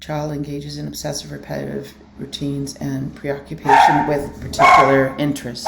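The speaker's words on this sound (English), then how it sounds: "Sorry, that's my dog." A dog barks several times in a row, loud and close, while a person keeps talking over it indoors.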